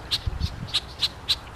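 An upset bird near its young squawks repeatedly outdoors, sharp high calls at a steady rhythm of about five or six cries, moderately loud over faint background rumble.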